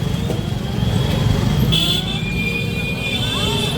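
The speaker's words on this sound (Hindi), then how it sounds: "बाकी आप ट्रैफिक देखो, अभी भी यहाँ पे हर वक्त का ट्रैफिक लगा रहता है" Steady road traffic on a busy city road, a continuous loud rumble of cars and motorcycles passing close by, with horn-like tones and someone speaking over the noise.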